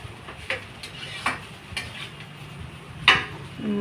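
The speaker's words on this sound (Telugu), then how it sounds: "రైస్ అయితే వేసేసుకున్నాం కదా, కింద నుంచి పైకి పై నుంచి కింద శుభ్రంగా బాగా మంచిగా కలిపేసుకోవాలండి." Egg rice is mixed in a pan over soft frying sizzle, with spoon scrapes and occasional clinks against the metal at a steady pace.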